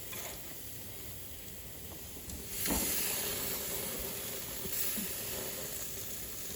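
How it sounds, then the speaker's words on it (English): Pork chops marinated in Dale's sizzle on a grill, a steady close hiss and crackle that swells louder partway through as more meat goes down, with no voices. "We're going to get these pork chops on the grill."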